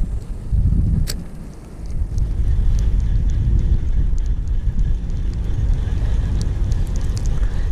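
Steady wind buffeting the microphone at a fishing park during a bank-fishing outing, a constant low rumble with a brief lull, loud and continuous with no talking.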